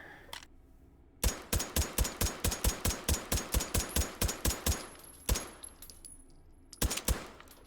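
Bergmann No 5 carbine firing in the VR shooter H3VR: a rapid, evenly spaced string of about twenty sharp, loud shots, then a short pause, a single shot and a closing quick burst with mechanical clinks.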